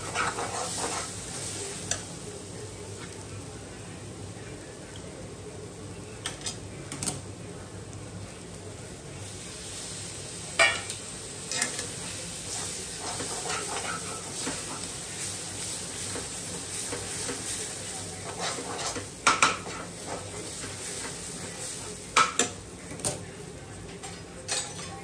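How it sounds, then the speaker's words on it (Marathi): Onion, tomato and pav bhaji vegetables sizzle steadily in oil in a pan while a spoon stirs them, with occasional sharper scrapes and clanks of utensil on metal over a faint, continuous fry. "आता हे आपण छानपैकी एकजीव करून घेणार आहोत तेल सुटेपर्यंत"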